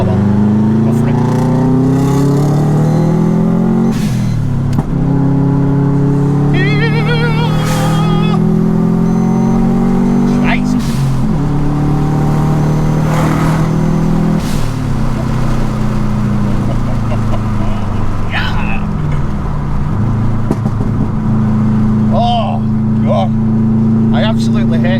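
A Class 1 HGV pulls away from a green traffic light, its engine droning steadily and rising in pitch through the gears, with loud nearby talk running over most of it.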